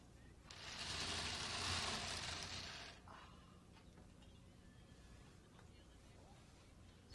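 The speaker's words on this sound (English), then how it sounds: "Start removing the drive assembly by removing the two screws that secure the drive assembly" Screws are backed out of the drive assembly on an Apple LaserWriter Pro printer, a faint, short burst of grinding, ratcheting mechanical noise that fades into quiet room tone.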